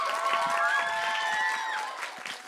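Audience applause at a festive Jūrmala concert ahead of Latvia's national holiday, a steady wash of clapping over a sustained tone, fading slightly toward the end.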